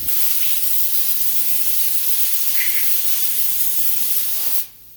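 A steady, loud hiss of compressed air blasts continuously for several seconds, spraying chips off a CNC-milled part, then cuts off abruptly.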